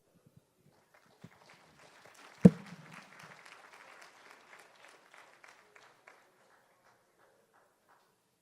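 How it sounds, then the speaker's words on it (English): Scattered clapping at a scholarship ceremony starts with a loud nearby clap, swells into a light round of applause, and thins out to a few last claps before quiet. "y'all clap one more time for Trent T. Dixon"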